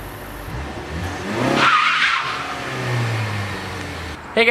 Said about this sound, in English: if you let it out too fast with too much gas, and you might spin the tires a little bit like this